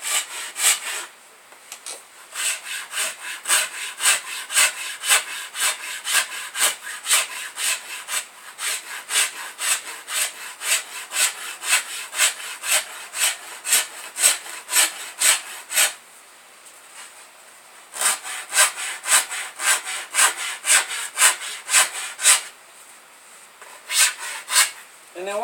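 Rhythmic rasping strokes of a hand tool shaping yew longbow handles, close up and steady, in bursts of rapid back-and-forth scraping separated by brief pauses.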